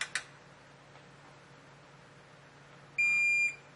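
A measuring tool used during a car oil change gives a short electronic beep of about half a second, clear and close, after a couple of quiet clicks against a low background hum.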